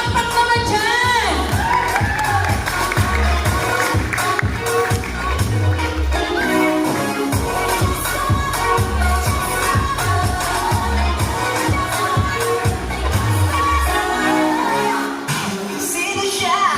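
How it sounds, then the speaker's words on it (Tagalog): Crowd cheering and whooping at an outdoor charity ride event, layered over loud pounding music with a steady beat throughout, voices shouting near and far. "Palakpak naman dyan!"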